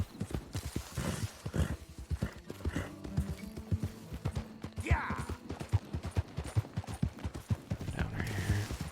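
Horses in Red Dead Redemption 2 clip-clop in a steady, close rhythm of hoof falls, with a brief whinny partway through. Someone talks intermittently over the hooves.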